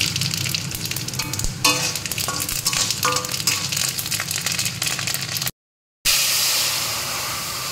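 Mustard seeds sizzling and crackling in hot oil for dal in a home kitchen, a loud continuous fry with sharp pops, cutting out briefly before the sizzle returns.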